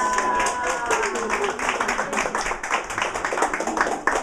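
An audience at an honoring event gives a round of applause, dense, fairly loud clapping that carries on for several seconds with a brief voice at the start.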